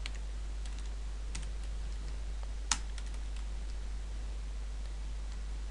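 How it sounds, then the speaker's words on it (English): Keys on a computer keyboard tap in short irregular bursts, faint and close, with one louder clack midway over a steady low hum and no talking. "If I type a trace statement in here,"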